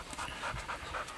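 A gundog pants steadily and close by, short rapid breaths repeating in an even rhythm with no voices over it.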